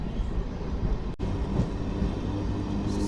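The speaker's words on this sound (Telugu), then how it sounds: "మన ట్రైన్ మెయిన్ లైన్లో ఉంది కాబట్టి స్పీడ్ అయితే మాత్రం కొట్టి పడేస్తాడు" A MEMU passenger train runs along the main line, a steady broadband rumble and rattle of wheels and carriages heard from on board, with a brief dropout in the middle before the running noise resumes.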